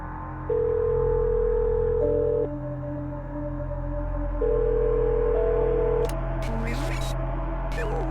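Phone call tone from a horror video game: a steady electronic telephone tone pulses in long on-off bursts over a low droning hum, fairly loud and up close, with a brief burst of higher noise near the end.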